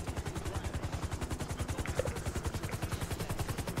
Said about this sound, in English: Someone took the helicopter!